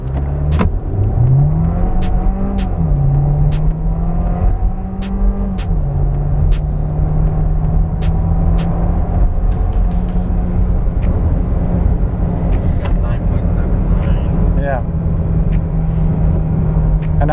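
A chipped Volkswagen Jetta MK7 pulls away from a standstill in drive and eco mode, its engine note rising steadily and shifting through gears as it gathers speed, loud and close from start to finish.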